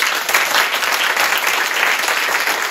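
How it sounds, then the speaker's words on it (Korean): A school audience, including gifted-class students, gives a lecturer a big round of applause at the end of a climate crisis talk, with dense, even clapping filling the hall. "오늘 박사님 열당해 주셨는데 큰 박수 부탁드립니다."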